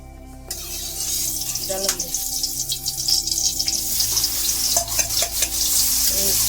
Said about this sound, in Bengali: এবারে তেল দিয়ে শুকনো মাছকে ভাজবো